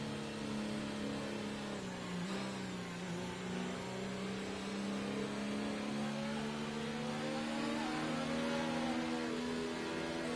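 High-pitched F1 2019 racing-game car engine at Melbourne, a sustained loud whine holding steady with small pitch shifts as the car runs continuously.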